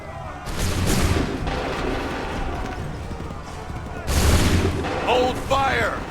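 Musket and cannon volley in the Assassin's Creed 3 video game, loud rolling gunfire bursts with heavy booms, a second volley crashing in near the end as shouted commands ring out over the battle.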